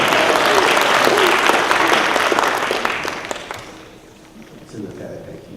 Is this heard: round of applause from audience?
yes